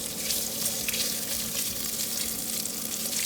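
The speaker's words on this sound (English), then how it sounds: "We're gonna cook and stir this sausage until it has some color on it." Sausage frying in olive oil in a skillet, a dense, steady close sizzle and crackle throughout with no talking.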